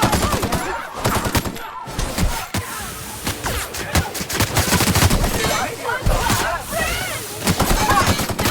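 Rapid gunfire from the video game The Outer Worlds, with repeated close shots and automatic bursts rattling in uneven clusters, with voices shouting over the shooting.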